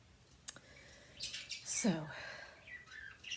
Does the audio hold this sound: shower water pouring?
no